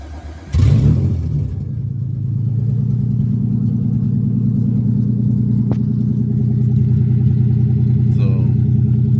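A six-speed Acura Legend with an open OBX race header starts with a sharp burst and settles into a loud, steady, deep rumble close by. The engine holds a constant drone without clear rev climbs.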